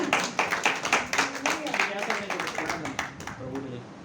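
A church congregation clapping together in a quick, steady rhythm, close and moderately loud throughout, thinning slightly toward the end.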